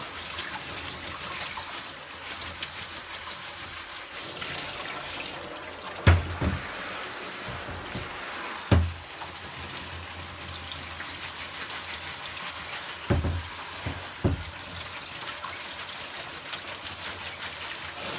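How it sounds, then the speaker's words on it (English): Water sprayed into an AEG tumble dryer condenser as it is jiggled by hand, a continuous hissing spray and trickle broken by several short knocks and splashes. "I'm just jiggling it with my hand as I'm spraying the water in."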